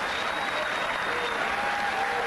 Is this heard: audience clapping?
yes